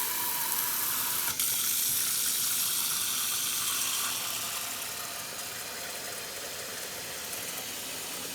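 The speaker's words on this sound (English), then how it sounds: "we're going to refill our water up" Tap water pours steadily into a pot being refilled for pho broth, a constant rushing hiss that eases slightly in level partway through, with no talking.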